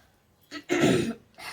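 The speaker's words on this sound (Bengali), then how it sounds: "কাশি হয়ে যাচ্ছে" Single throaty cough from a person while cutting a koi fish, a short harsh burst up close preceded by a small throat sound and followed by a softer trailing one.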